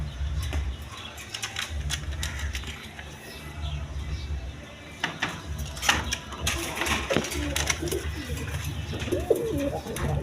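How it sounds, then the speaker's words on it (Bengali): A pair of Kaldom pigeons coo in low, repeated throaty rumbles close by, with brief wing flutters and scuffles mixed in. "দর্শকবৃন্দ এখানে এক পেয়ার কবুতর আছে, কালদম কবুতর।"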